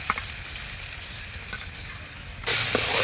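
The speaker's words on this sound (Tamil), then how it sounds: "வெங்காயம் எல்லாம் வந்து வதங்கிடுச்சு." Soft, steady sizzling of onions sautéing in a pan, with a louder burst of crackling near the end as they're stirred.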